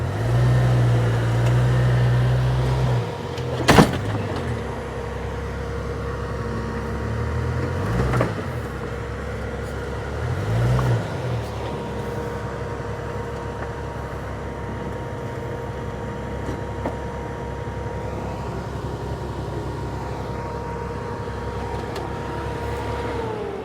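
A Jeep stuck on the Rubicon Trail, its engine droning steadily with low rumbling surges and a few sharp knocks early on, the running continuing evenly after the strain eases.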